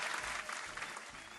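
Brief canned applause effect on a podcast, a short dense burst of clapping at low volume.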